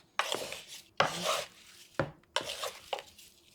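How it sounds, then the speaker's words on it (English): Peaches are mixed with seasonings by hand, giving five distinct squelching, slapping pushes spaced about half a second to a second apart, close and fairly soft, with quiet pauses between them. "Then we're just going to mix our peaches, all of our seasonings."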